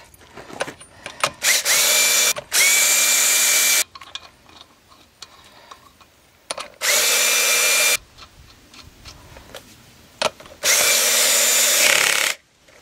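Power tool driving lug nuts tight on a 2008 Chevy Impala front wheel, worked in a diamond pattern: three loud, sustained whirring bursts of a couple of seconds each, separated by quieter clicks and handling noises, with no talking.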